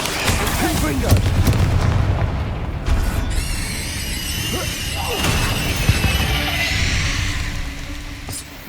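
A Confringo blasting spell bursts in Hogwarts Legacy, deep booming impacts and crackling debris over a dense, continuous wash of game sound effects.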